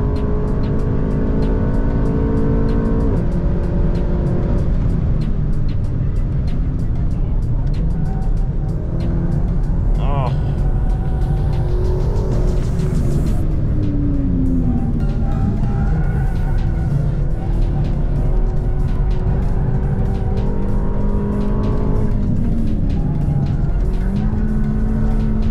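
A Renault Megane RS Trophy 300 EDC lapping a race track, its engine droning loudly and continuously with rising and falling revs through gear changes and corners, heard close from on board with no one speaking.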